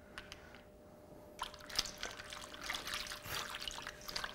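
Hands swish pumpkin seeds and slimy membranes around in a big bowl of water, producing close, faint sloshing and trickling with irregular splashy bursts and a brief quieter pause early on, no speech.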